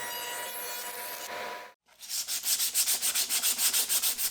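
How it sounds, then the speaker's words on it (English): Plywood tambour slats are sanded by hand. A first stretch of rubbing stops with a brief pause, then quick rhythmic back-and-forth strokes follow, close and evenly paced. "As I sanded them, they looked great, and they were exactly the right shape that I wanted"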